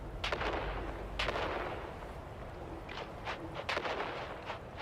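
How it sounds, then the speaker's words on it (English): Grenades go off in the video game Dune: Awakening, about half a dozen heavy blasts and booming bursts that fall in quick, irregular succession against steady battle noise. "On 3, we grenade and move."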